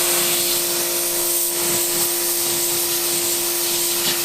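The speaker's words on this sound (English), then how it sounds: "So I'm gonna take the pressure washer." A pressure washer blasts a piece of wood at close range, giving a loud, continuous hissing spray with a steady motor whine underneath and slight roughness as the jet tears the surface.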